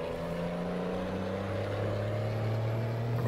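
A Volvo VNL truck's 565-horsepower engine accelerates in American Truck Simulator, a loud, steady drone with rising tone building toward the red line, heard alone without talk.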